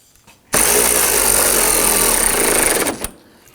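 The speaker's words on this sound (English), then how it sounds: "we're going to come back and tighten down the bolts" A power tool runs in one loud continuous burst of about two and a half seconds while tightening bolts on the AC condenser of a 2005-2009 Subaru Legacy, close and harsh, starting and stopping abruptly.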